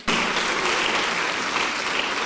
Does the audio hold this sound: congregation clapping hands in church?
yes